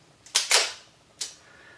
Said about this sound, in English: The shutter fires, it does seem to have a bit of a squawk.